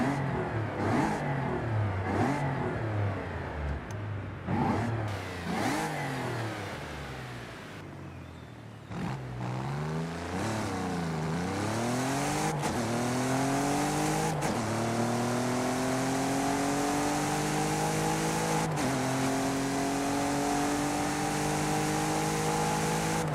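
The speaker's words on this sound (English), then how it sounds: "Three-liter V6 supercharged," A supercharged 3-liter V6 car in Forza Horizon 5 revs repeatedly and then accelerates through several gear shifts, loud and close, with a steady engine whine rising between the shifts.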